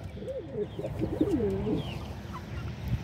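Pigeons in a pigeon loft coo close by, a low, rolling, wavering call repeated a few times over a soft background rumble.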